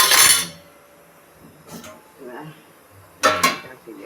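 A metal lid clanks onto a cooking pot of palak bhaji, two bright clattering metallic hits separated by a quieter stretch with faint kitchen sounds and a little speech between.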